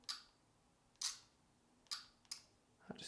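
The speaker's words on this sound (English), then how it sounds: "you'll be able to choose a shutter sound" A Fujifilm X100F camera fires its selectable electronic shutter sound: four crisp, close clicks at uneven intervals, then a softer rattle at the end, over a quiet background.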